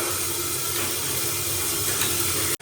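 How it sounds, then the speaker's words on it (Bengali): Dal boiling in a pot filled with plenty of water, a steady rushing hiss of bubbling and steam that carries through unbroken before cutting off abruptly at the very end. "এবার ডালটাকে ফোটাতে হবে ভালো করে অনেকটা জল দিয়ে ফেলেছি"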